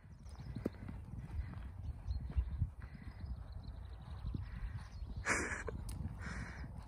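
Horse hooves clip-clop steadily on the ground while a mare is free schooled over poles at a barn, with a bird calling briefly in the background.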